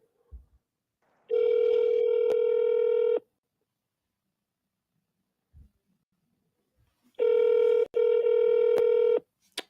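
A phone line rings through Google Voice while calling a real estate lead, giving two long, loud bursts of steady tonal ringing with a gap of near silence between them and no talking.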